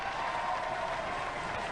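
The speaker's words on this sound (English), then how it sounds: "Give Roadblock a round of applause!" Studio audience applause on the robot combat show Robot Wars, a steady, dense roar of clapping and crowd noise at even loudness throughout, with no talk over it.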